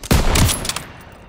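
A short, loud burst of machine gun fire from the Call of Duty: WWII game, a rapid rattle of shots up close that fades into a brief echoing tail.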